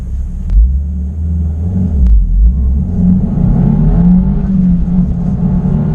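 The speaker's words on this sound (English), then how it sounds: "We're gonna see what a rough 0 to 60 would be like in this vehicle." A 2026 Subaru WRX tS accelerating hard from a standstill, its engine rumbling loudly and climbing in pitch with a brief shift, heard from inside the cabin without speech.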